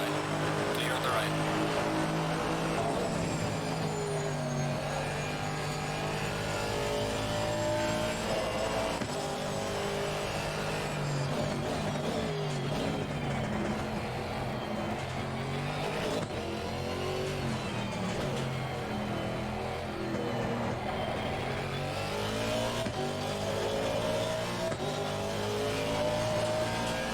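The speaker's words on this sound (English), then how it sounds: "The backfires on the upshifts in this car are just so meaty." Race car in Assetto Corsa Competizione at Silverstone, engine revving hard and climbing through gears with popping backfires on the upshifts, steady and loud throughout while a voice talks over it.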